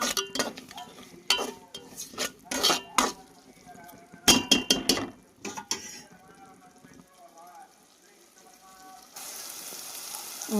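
Onions and tomatoes with salt, chili powder and turmeric frying in a pan, with soft sizzling broken by clinks and scrapes of a spoon stirring against the metal, alone without talk.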